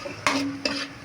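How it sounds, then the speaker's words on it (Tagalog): Carrots and corn are sautéed in a pan, with a spatula stirring twice against the metal over a steady sizzle of frying, close and moderately loud. "Gigisa lang natin ng konti para maluto yung mga carrots and corn."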